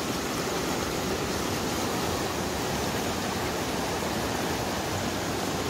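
A mountain river rushes through a valley in the Naran Kaghan area, a loud, unbroken, broadband roar of flowing water heard close by with no voices.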